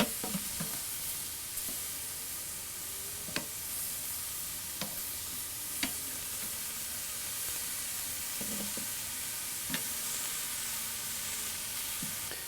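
Thin meat for Korean tacos searing over lump charcoal on a Weber kettle grill: a steady, close sizzle runs throughout, broken by scattered sharp pops and crackles, with no voices.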